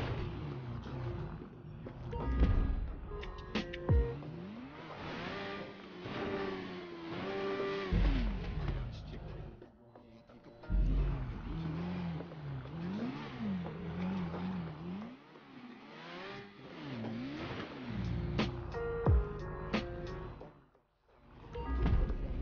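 A motorcycle engine in the video game GTA 5, during a rooftop parkour run, revs continuously with repeated rising and falling pitch sweeps, fairly loud and up close with brief dips between bursts.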